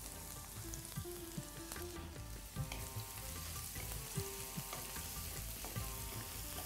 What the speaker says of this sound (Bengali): তেলটা গরম হতে হতে আমি দেব রসুন কুচি আর দেব 2 টেবিল স্পুন আন্দাজ পেঁয়াজ কুচি।